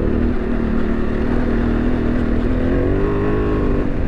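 A Honda Transalp 750 with upgraded suspension and exhaust rides over big ruts, its engine droning loud and steady with a slight rise in pitch near the end, with no speech.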